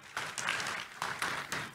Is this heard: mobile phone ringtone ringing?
no